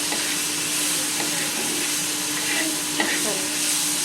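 Food frying in a pan after a pinch of salt goes in, a steady close sizzle with scattered crackles and a few soft stirring clicks, no voices.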